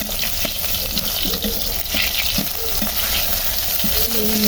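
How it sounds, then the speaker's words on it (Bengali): Leafy greens fry in oil left over from frying eggs, making a loud, close, continuous sizzle with spattering crackles and frequent spatula scrapes and taps throughout. "শাকগুলো ভেজে নেব"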